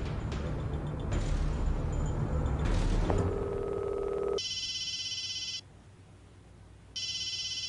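A telephone rings indoors in two clear electronic bursts separated by a pause, loud and close, following a stretch of muffled background noise and a low tone.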